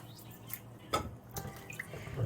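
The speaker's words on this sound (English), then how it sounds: "I'm just gonna rinse off the saltfish. Just rinse it off." Tap water runs in a sink as saltfish is rinsed off, a few splashy gushes and drips close by, uneven and brief over a soft background hum.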